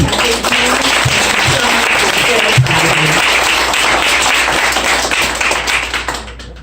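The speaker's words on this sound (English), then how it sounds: "If we could have a round of applause" A crowd at a school graduation ceremony breaks into loud, dense applause that holds steady for several seconds before tapering off, with a few voices faintly mixed in.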